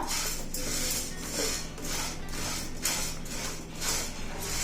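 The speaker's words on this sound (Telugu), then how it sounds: "అందులోనే నాలుగు స్పూన్లు పచ్చిశనగపప్పు అలాగే రెండు స్పూన్లు ధనియాలు వీటిని దోరగా వేగనిద్దాం" Chana dal and coriander seeds roast in a pan, giving a soft repeated scraping and stirring with faint rattles in a steady rhythm of strokes.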